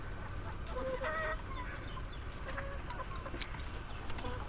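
Desi chickens clucking softly at a moderate distance, with scattered calls and a couple of sharp clicks against steady background noise.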